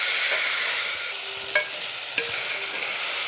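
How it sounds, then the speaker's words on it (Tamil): Potatoes and black pepper sauté in a hot pan for a millet vegetable biryani, giving a steady close sizzling hiss broken by two brief stirring clinks. "உருளைக்கிழங்கு எல்லாத்தையும் சேர்த்துடலாம் மிளகு வதக்கி விட்டுக்கோங்க"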